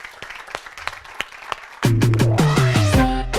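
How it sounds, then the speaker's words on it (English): Scattered audience clapping follows a startup analytics talk, a few sparse claps at first, then cut off as loud stepped music comes in. "and a round of applause again"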